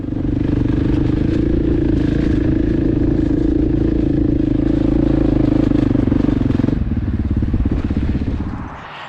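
A mid-weight adventure motorcycle ridden off-road, its loud, steady engine drone close by with rattling and clatter over rough ground, easing off near the end.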